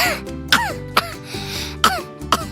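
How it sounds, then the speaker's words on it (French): A dry, irritated cough comes in a series of about five short, sharp bursts over a couple of seconds, close and fairly loud, with a faint tonal background beneath. "Voici une toux sèche"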